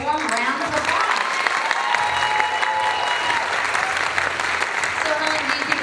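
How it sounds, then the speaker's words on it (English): Audience at the Mrs Oregon 2017 pageant applauding contestants after a stage competition, dense, sustained clapping from a crowd filling the hall, with a voice talking over it. "Please give those ladies a warm round of applause."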